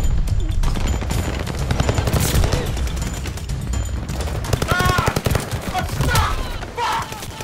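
Gunfire in a video game, with loud automatic bursts and single shots sounding close and almost without pause, while excited voices talk and shout over the shooting.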